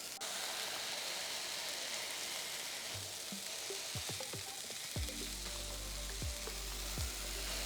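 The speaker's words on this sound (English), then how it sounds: "we have put the ball of meat on the griddle, we're going to smash it" Koobideh meatball sizzling on a hot griddle, a steady bright frying hiss with scraping clinks and thuds as a large metal spatula presses and smashes it flat, close and alone without talk.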